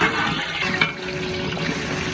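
Oil and onions frying in a large pot for a village-party mutton biryani, a steady close sizzle with scraping stirs and a brief clatter midway, no talking.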